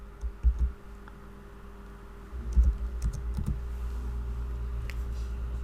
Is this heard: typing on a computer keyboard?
yes